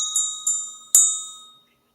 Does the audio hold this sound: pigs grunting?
no